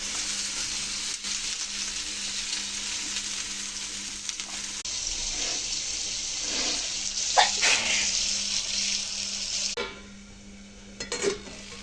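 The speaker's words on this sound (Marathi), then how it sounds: "बटाटे शिजले चांगले 5 मिनिटं तेलामध्ये." Potatoes frying in oil for sabudana khichdi, a steady broadband sizzle with scraping stirs and occasional clatter near the end, no talking.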